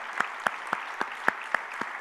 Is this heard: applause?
yes